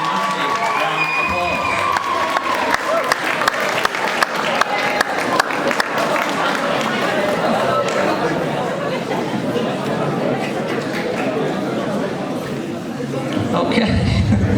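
A large indoor audience claps and cheers in sustained, loud applause with crowd chatter and shouts running throughout, swelling again near the end.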